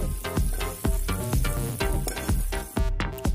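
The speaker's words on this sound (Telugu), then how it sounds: "పెరుగు తాలింపు వేసుకుందాం" Yogurt tempering with green chillies and turmeric sizzling loudly in hot oil, with repeated bursts of crackling and spattering as it is stirred, close and without talk.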